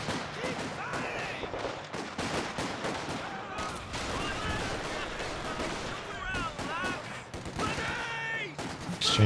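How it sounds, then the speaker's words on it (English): Grenade blasts and rapid gunfire during a Company of Heroes 2 1v1 Eastern Front battle, dense overlapping bursts and explosions with a Vickers machine gun, under continuous fast commentary. "Exchanging grenades here."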